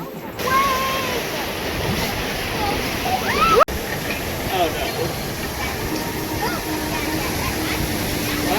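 Water rushes and splashes steadily on the Roger River rapids ride at Walibi Belgium, a broad continuous wash with a brief sharp knock partway through, and a voice faintly audible in the background.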